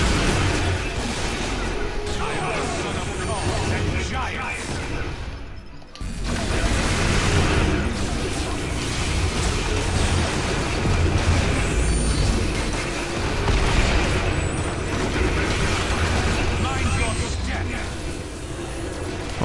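Big explosions in the Marvel Heroes video game make a dense, loud wash of booming noise that runs almost continuously, with one brief drop partway through, under a player talking.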